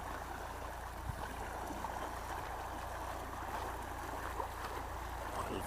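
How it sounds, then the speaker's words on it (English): Water rushes steadily through an open lock on the Grand Union Canal, a continuous broadband wash with no breaks, heard from close by at a moderate level with no voices. "What a lovely sound of water,"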